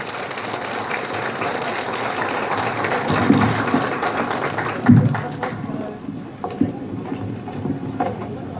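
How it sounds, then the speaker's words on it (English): A crowd at a Hmong New Year community gathering in Minnesota claps to welcome the state governor to the podium. The dense, hissy applause fills the hall at first, then thins and fades away with a few last scattered claps. "I would like to get a big hand of applause to our Governor of Minnesota, Honorable Tim Walz"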